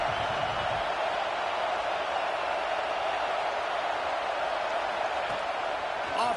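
Stadium crowd noise at an American college football game between Tennessee and Michigan, a broad steady roar building support for the defense on a big third down, continuous and loud throughout with no break.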